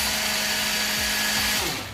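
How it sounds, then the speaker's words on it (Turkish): Electric hand mixer whisking eggs and sugar for a chocolate soufflé, a steady high motor whine with beaters rattling in the bowl, close and continuous before winding down. "Böyle iyi bu mikserden yoksa arkadaşlar çırpma teliyle de çırpabilirsiniz"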